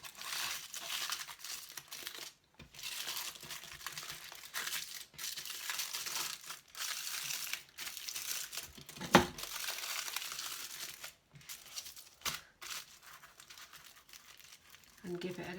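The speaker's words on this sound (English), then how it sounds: "just need to fold over your piece of cardboard and just press down the foil at the back." Aluminium foil crinkles and rubs as it is pressed down over a folded piece of cardboard for embossed foil art, a steady close papery rustle running throughout with brief pauses and one sharp tap near the middle.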